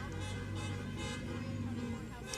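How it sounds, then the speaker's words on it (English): Cars drive past outside a courthouse where protesters rally during a trial, a steady muffled traffic rumble and whoosh with crowd murmur and indistinct voices mixed in, fairly faint. "As cars drive by, these protesters supporting Sonya Massey are asking them to honk if they support Sonya Massey"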